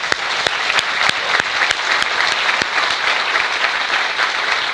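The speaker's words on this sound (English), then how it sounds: "Let's give them a round of applause." A conference crowd at a Python event claps loudly for the organizers, a sustained wash of applause with a few sharp individual claps standing out.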